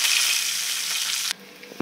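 Pabda fish fry in hot oil with a loud, dense sizzle that cuts off abruptly after a little over a second, followed by quiet and a couple of light knocks.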